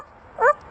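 A person imitates a dog's bark with a single short, voiced yelp, loud and close, standing alone amid quiet.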